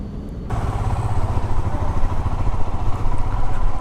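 Royal Enfield Himalayan BS6 motorcycle riding on the road after its first service, a steady mid-pitched engine drone with constant rumble throughout.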